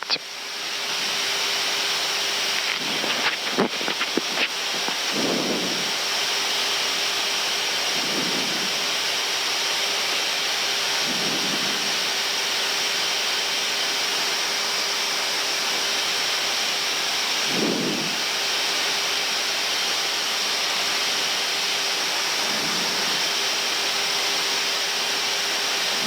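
Airbus cockpit during an RNP approach and landing in snow, a steady loud broadband roar of airflow and engines filling the cabin, with a few brief clicks and soft low thumps scattered through and no voices.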